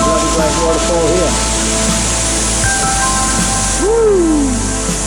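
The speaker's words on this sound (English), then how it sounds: "A bloody great waterfall here." A large waterfall roars as a loud, steady wash of noise that fills the whole scene, with brief voice-like sounds rising over the constant rush.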